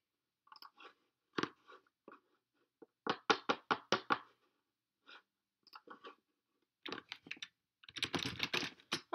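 Typing on a computer keyboard: quiet, close clusters of irregular clicking keystrokes in short bursts separated by pauses, with a denser flurry at the end and no talk.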